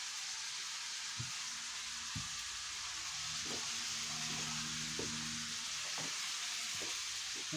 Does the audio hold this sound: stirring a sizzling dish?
yes